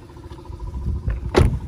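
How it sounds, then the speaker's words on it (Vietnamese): A Hyundai car door swung shut, a single solid, muffled thud near the end after a short rustle of movement, close by and fairly soft. "cửa dòng này đóng rất là chắc luôn và đóng rất là nhẹ nhàng"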